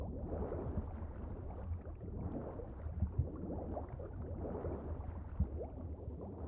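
Muffled gurgling and sloshing water surround an underwater swimmer in The Witcher 3 on PC: a low, constant bubbling wash with faint pulses and no voices.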